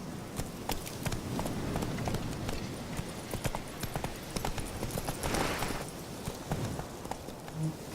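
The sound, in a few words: Geralt's horse Roach galloping in video game The Witcher 3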